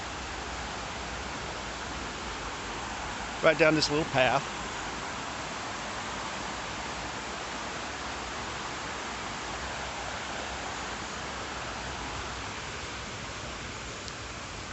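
Creek water flowing steadily beside a shady little path in the North Carolina mountains, a constant broadband rush throughout, with a brief stretch of nearby talk partway through.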